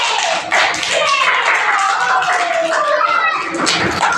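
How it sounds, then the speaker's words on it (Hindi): A group of people clapping their hands loudly together in a session, a dense continuous patter of claps over the whole stretch with voices audible underneath. "जोर से ताली बजाओ"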